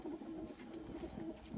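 Red pigeon cooing on a rooftop loft, a soft repeated low coo running steadily through the short stretch, fairly quiet with faint background noise.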